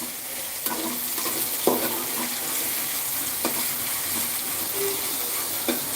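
Onions sizzle in a frying pan, a steady close hiss broken by occasional light taps and stirring clicks, with no talking.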